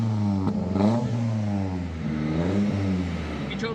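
An Italika Pointer motorcycle with no silencer on its exhaust revs close up, a loud raspy blat rising and falling in a couple of throttle blips alone.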